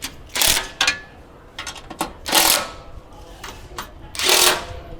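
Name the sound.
bolts being tightened on underbody guard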